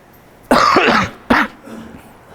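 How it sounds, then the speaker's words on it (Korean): Someone with a cold coughs twice in quick succession, a long, loud, harsh cough followed by a shorter one, close up with a quiet room behind. "감기가 며칠 전부터 걸려가 콜록콜록 하는데"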